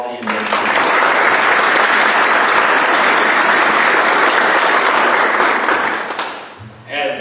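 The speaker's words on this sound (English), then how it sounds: "how about a round of applause for all the inductees?" Sustained, loud applause from an audience at a college honor society induction ceremony, filling the room evenly for about six seconds before tapering off as someone begins to speak.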